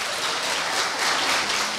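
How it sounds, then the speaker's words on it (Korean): Steady applause from a school speaking-contest audience after a middle school student's speech, a dense even wash of clapping that holds through the whole stretch without any talk. "여러분의 응원의 박수 한 번만 더 부탁드리겠습니다."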